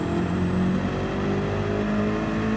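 A race car engine in Gran Turismo 7 roars steadily and loudly at high revs throughout, a continuous mechanical drone with shifting pitch as the car brakes and changes gears.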